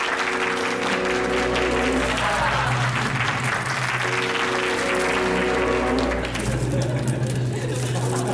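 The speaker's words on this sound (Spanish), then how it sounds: "Recibamos ya, con un fortísimo aplauso, a Madame Flowers." Studio audience applause at a live Spanish-language TV variety show, loud and sustained for about eight seconds, with music or crowd tones underneath and a brief dip partway through.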